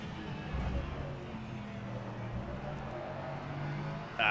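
A Ligier JS P320 LMP3 prototype race car in the rFactor 2 sim at Portland International Raceway, engine droning steadily at mid revs with a brief sharp burst at the end, under a talking voice.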